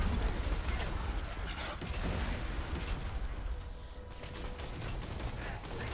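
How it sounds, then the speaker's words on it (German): Bursts of Borderlands 2 gunfire crackle through a dense, busy mix, with rapid pops and booms running continuously at fairly steady loudness. "Da hinten schießt einer mit Slagwaffen"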